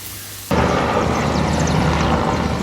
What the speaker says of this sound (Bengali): তো কাছ থেকে হেলিকপ্টার যাচ্ছে।